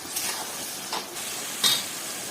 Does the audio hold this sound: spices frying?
yes